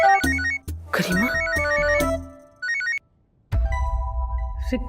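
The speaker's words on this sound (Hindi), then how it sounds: "गरिमा कब से फोन कर रही हूँ, फोन क्यों ना उठा रही?" A phone ringtone plays a repeating electronic melody in short bursts, close and clear, then stops after a brief pause into a low background hum.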